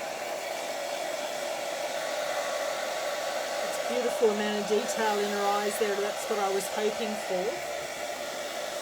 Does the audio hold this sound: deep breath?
no